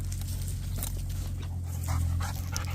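A dog pants close by in rapid, steady breaths, with no talking, over a constant low hum from pump equipment at a well site.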